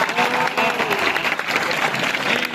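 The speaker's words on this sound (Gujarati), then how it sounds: "કુંવરજીભાઈ બાવળિયાને જોરદાર તાલીઓથી આપણે સ્વાગત કરીએ" A large temple audience breaks into strong applause to welcome Gujarat cabinet minister Kunvarji Bavaliya at BAPS Swaminarayan Mandir, Rajkot. Dense, loud clapping rolls on continuously with a faint crowd murmur underneath.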